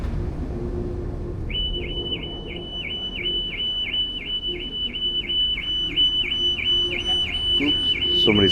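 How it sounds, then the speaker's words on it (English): A car alarm sounds on a ferry crossing to Berneray in the Outer Hebrides. Its repeated high warbling chirp cycles about twice a second, moderately loud and somewhat distant, over steady engine and wind rumble. "somebody's alarm's going off"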